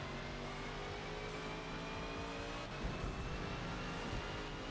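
A race car engine holds full throttle around the Mugello circuit in Forza Motorsport, a steady, high-revving drone with rising harmonic whine and faint tire noise, heard alone and fairly quiet.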